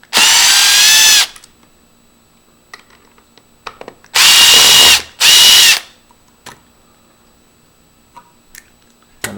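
A power drill removes the two latch screws from a PLS Grade 2 storeroom-function lever lock, heard as three loud, close, whirring bursts separated by quiet gaps with small clicks and handling noises.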